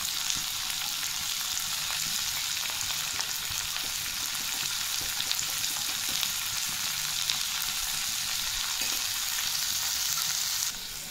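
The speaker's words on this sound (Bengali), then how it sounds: "সব সবজিগুলোই ভাজা হয়ে গেছে" Mixed vegetables frying in a wok with salt added, capsicum to follow, a loud, continuous close sizzle holding steady throughout with light stirring and no talk.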